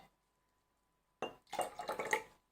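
Blue-coloured water is tipped out of a container during a classroom activity, a short splashing trickle that starts abruptly after a second of silence and patters irregularly before fading.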